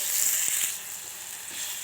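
Grated raw mango fries in hot oil, giving a steady bright sizzle that stays fairly loud throughout, with faint stirring bumps underneath.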